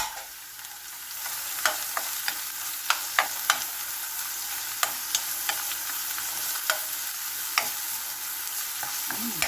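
White onions frying in a pan for a stir-fried pork liver dish: a constant close sizzle broken by repeated sharp clinks and scrapes of a utensil stirring at an irregular pace.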